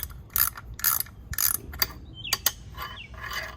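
A ratcheting wrench works on wiper motor bolts of a Jeep Wrangler TJ, giving close, crisp bursts of rapid clicking, several short runs separated by brief pauses.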